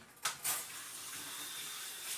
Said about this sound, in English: what I'm going to do really quick is put this in the sink not real quick in the water